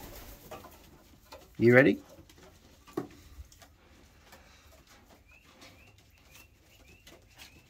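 Racing pigeons being readied for basketing give soft coos and a loud burst of close wing flapping, followed by a sharp knock and faint chirps, while a person speaks briefly.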